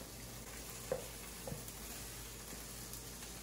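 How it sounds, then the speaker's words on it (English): Scallions and rice sizzle steadily in a hot pan, a constant soft frying hiss with a couple of faint stirring taps. "I'm gonna add in my scallions. Gonna add in the rice."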